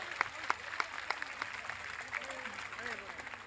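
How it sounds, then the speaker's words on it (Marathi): At a Khel Mandiyala event for women, the audience gives the organiser faint, scattered applause: a handful of distinct claps, some rhythmic, that sound fairly distant, with soft voices murmuring underneath. "अगदी आकाशाला ऐकायला जाईल इतक्या जोराने टाळ्या वाजवून त्यांच्याप्रती आभार व्यक्त करा"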